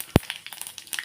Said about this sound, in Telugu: ఆయిల్ వేడైందండి. ముందుగా కొద్దిగా ఆవాలు, జీలకర్ర